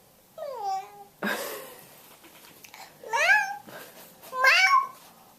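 A voice imitates a cat's meow, three drawn-out rising and falling meows spaced across the clip, with a brief burst of adult speech between the first two.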